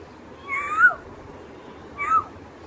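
A human voice mimics a cat, giving two separate drawn-out meows about a second apart, close and clear over a quiet background with no other talk.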